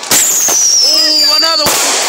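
A Fourth of July firework whistles upward in a long, loud descending shriek, then ends with a sharp bang.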